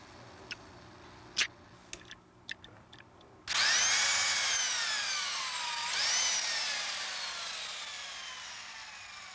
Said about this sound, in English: The nut will be doing the most of the turning, and when it reaches the proper tension, the inside socket will twist the tip of the bolt off.